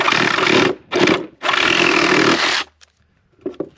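Power cutting on a cracked fiberglass tank to remove a part: loud, close whining bursts of the tool, one long run, a short burst, then another long run, stopping abruptly, followed by faint rattles.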